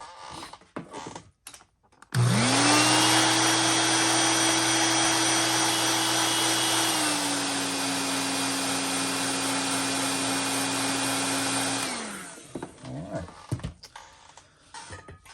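A heat gun heat-sets paint on a JDM Luxxe Avenge 80 fishing lure, blowing with a loud steady whine and rushing airflow for about ten seconds, dropping slightly in pitch partway, then shutting off amid light handling clatter.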